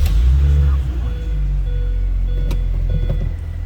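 A 2004 Mini Cooper S engine starts with a loud low burst, then settles into a steady, close idle rumble with faint clicks and a voice speaking briefly over it.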